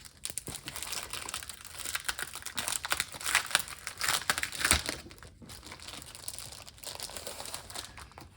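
Sheets of cardstock paper being handled and shuffled, with steady close crinkling and rustling throughout, a denser burst of crumpling in the middle, no voices.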